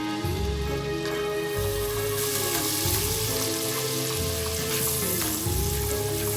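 Minced garlic sizzles steadily as it browns in a pan, a loud constant frying hiss with faint tonal background music running underneath.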